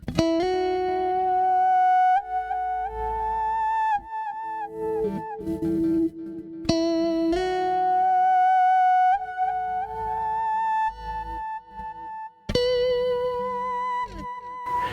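Sustained electric guitar notes through Blue Cat's Axiom with piercing, whistle-like harmonic tones that bend and glide, struck anew every few seconds, loud and alone.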